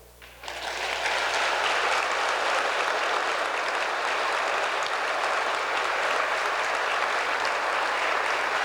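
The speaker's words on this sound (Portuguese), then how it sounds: "Você pode aplaudir, Senhor." A church congregation bursts into steady, dense applause after a brief quiet moment, then keeps clapping loudly and evenly with no one speaking over it.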